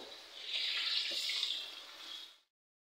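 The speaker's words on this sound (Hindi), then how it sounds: "अब मैं इसमें पानी ऐड कर दूंगी।" Water pours steadily into a pan of sautéed tinda (round gourd) for about two seconds, hissing softly as it hits the hot vegetables, then stops abruptly; close and fairly quiet, no talk.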